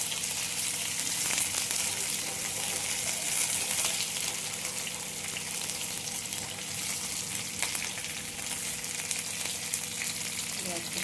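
Fish sizzles and crackles steadily in hot oil in a pan, a dense, continuous frying hiss that holds at an even level throughout with no talking.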